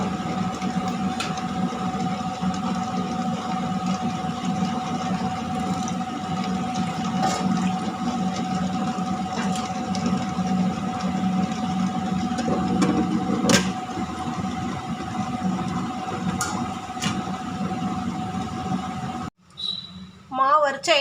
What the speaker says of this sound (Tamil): இப்போ அரிசியும் உளுந்தும் ஒன்றா சேர்ந்து நல்லா அரைட்டும்